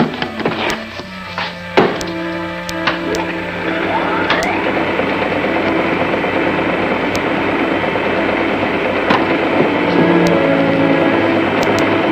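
Mechanical neutralizer machine being set up in an old 1949 serial, with clicking ratchet and gear taps at first, then a steady, loud whirring drone that fills the rest of the clip.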